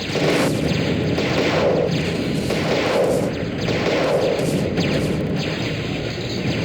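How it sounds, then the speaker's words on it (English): Havoc APC choppers shooting down gunships in a Total Annihilation mod, a dense, steady barrage of rumbling cannon fire and explosions with repeated bursts, loud and continuous throughout. "The Havoc APC chopper is multi-purpose, which means it handles itself in a dogfight. See them shoot down a bunch of mostly helpless gunships."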